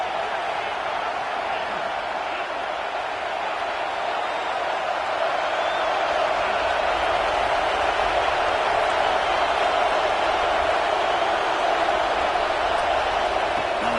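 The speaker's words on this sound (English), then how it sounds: "listen to this crowd noise. This stadium is vibrating" A packed college football stadium crowd at a Colorado versus Clemson game produces a loud, steady, unbroken roar throughout.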